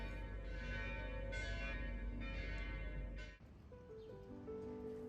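Morning church bells in Florence, Italy ring in dense, layered strokes, loud and resonant, then fade to a lighter, sparser chiming.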